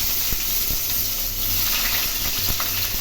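Small onions sizzle steadily in hot oil for a mutton liver pepper fry, a close, continuous crackling hiss with a few soft knocks of stirring.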